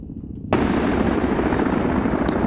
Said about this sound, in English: they should hear that helicopter at this point